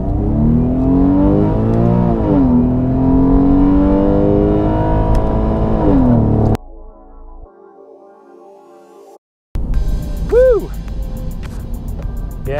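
A Porsche 911 accelerates hard on a clear road during a 0-60 drag run, its engine note climbing loudly through the revs, dipping at a gear change and rising again, with a brief gap and a renewed rev near the end.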